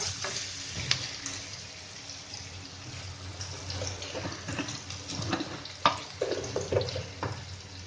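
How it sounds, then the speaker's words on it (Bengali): Onions frying in a pan with salt added, a soft steady sizzling hiss close by, broken by scattered crackles and light stirring clicks. "আর এই পেঁয়াজ ভাজতে ভাজতে এর মধ্যে লবণ দিয়ে দিব"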